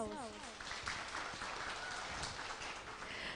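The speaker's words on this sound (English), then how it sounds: "Please give him a warm welcome and a great applause" A hall audience claps a warm welcome for a speaker at a summer course on coding theory and cryptography, a steady, fairly faint patter of many hands, with a brief tonal sound at the start.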